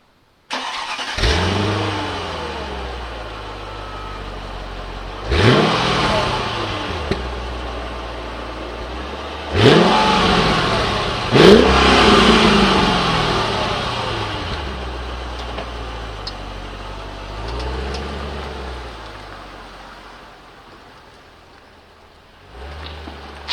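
A smooth, powerful supercharged engine in a Mercedes S55 L AMG Kompressor saloon revs up several times in separate bursts, each rising then easing off, with a muted idle between.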